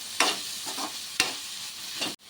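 Shredded cabbage fries in a pan with a constant sizzle. A spatula stirs and scrapes through it, striking the pan twice with sharp knocks, and then the sound cuts off abruptly.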